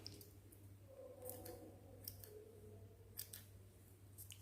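Scissors snip through a paper ring during a kids' craft, a few close, crisp cuts at irregular intervals over a steady low hum.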